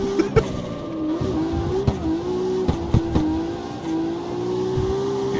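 Car tires doing a long burnout in the CarX Street racing video game: a loud, sustained engine drone holds a steady pitch with sharp tick-like transients scattered through it, and no talking.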